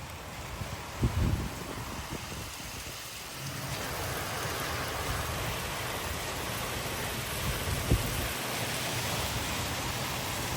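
Heavy rain driven sideways by strong storm winds in Frisco, Texas hisses in a dense, constant roar, with a few brief louder gusts and patters along the way.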